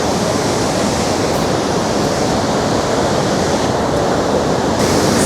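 Ban Gioc waterfall on the Vietnam–China border, a loud, continuous broadband roar of rushing water with no let-up and no voices.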